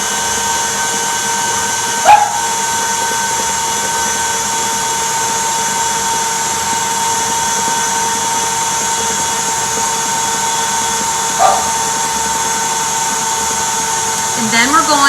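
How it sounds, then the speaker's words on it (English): An electric mixer whips brown sugar fudge until fluffy, a steady droning motor whine that holds for the whole stretch, broken only by a couple of brief knocks against the bowl. "I'm just gonna whip this up till it's fluffy, like she says"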